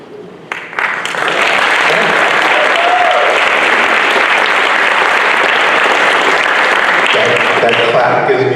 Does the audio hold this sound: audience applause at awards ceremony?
yes